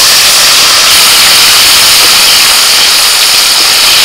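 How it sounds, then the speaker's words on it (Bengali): Chopped tomato hitting hot oil in a kadai after fish were fried in it, an intense, dense sizzling hiss that stays loud and steady the whole time. "এবার ওই তেলের মধ্যে আমি দিয়ে দিচ্ছি টমেটো কুচি"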